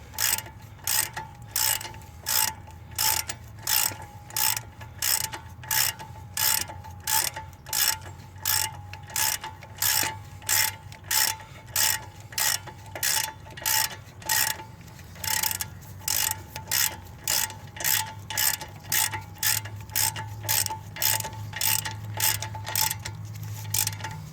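A ratchet drives 21 mm bolts snug on a CV axle during a passenger-side CV axle replacement on a GMC Acadia/Traverse-type crossover, clicking in steady rapid bursts of pawl ticks, close and clear with a low hum beneath.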